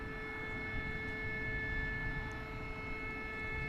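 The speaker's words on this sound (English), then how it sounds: "there goes the DHL. It was waiting for a takeoff from the short T there." A DHL Boeing 767 cargo jet taking off from DFW Airport at night, a steady distant engine roar with a sustained high whine running through it, even in level and unbroken throughout.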